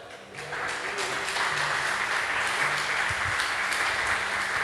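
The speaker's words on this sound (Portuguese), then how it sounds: "Dê um aplauso, Senhor Jesus" Church congregation claps steadily for several seconds, a broad and even wash of applause with a faint sustained low tone underneath.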